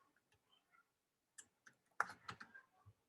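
Scattered keystrokes on a computer keyboard, a few soft isolated taps followed by a quicker cluster of louder clicks, close and without talk.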